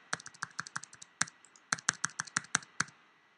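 A computer keyboard clatters close by as someone types into a form, with quick runs of sharp keystrokes broken by brief pauses.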